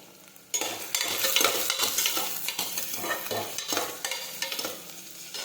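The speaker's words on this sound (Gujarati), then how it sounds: "હવે આપણે સાતળી લઈશું" Bottle gourd and lentil curry sizzling in a pan, starting abruptly and continuing as a loud steady fry with frequent stirring scrapes.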